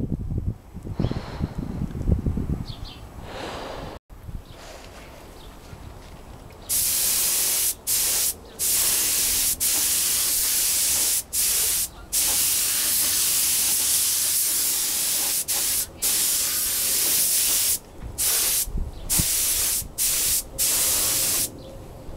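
A spray gun lays clear coat on Honda NS250R motorcycle parts, heard as loud, close bursts of steady hiss broken by short pauses after a quieter start.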